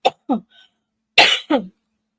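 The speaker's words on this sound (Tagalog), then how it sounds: "Ubo lang ako." Several sharp coughs up close in two quick bursts, separated by a brief pause.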